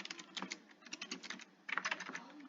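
Quick, uneven keystrokes on a computer keyboard in a quiet room, a close flurry of light clicks with short pauses and a denser burst near the end.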